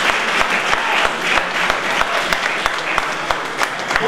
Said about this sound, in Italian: faccio un applauso a voi, fatevelo da soli, siete fantastici.